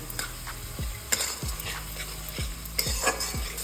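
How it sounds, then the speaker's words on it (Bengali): Ginger garlic paste sautéing with onions in a pan for Bengali-style chicken bharta: a continuous sizzle broken by regular spatula scrapes and stirs, close up, with no voices. "এই মশলা দুটোকে একসঙ্গে কষিয়ে নেব পেঁয়াজের সঙ্গে।"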